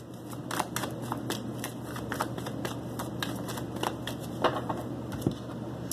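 Close, crisp riffling of a tarot deck being shuffled repeatedly, a run of quick flutters and soft slaps with no talking.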